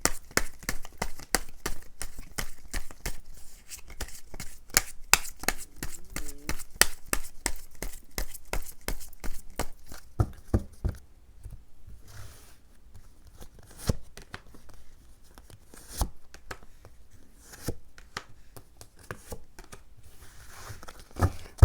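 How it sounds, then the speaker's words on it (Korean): Tarot cards shuffled by hand in a long run of rapid crisp riffling clicks, close and steady, then slowing into scattered slaps and soft slides as cards are drawn and laid down. "제가 추가 카드 뽑아본 다음에 나머지 리딩을 해드리도록 할게요"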